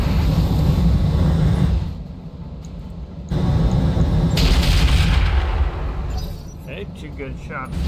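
Gunfire from mech weapons in the video game Roguetech, a BattleTech mod: loud, dense bursts of shots and blasts roll on with brief lulls, with a voice speaking over the barrage.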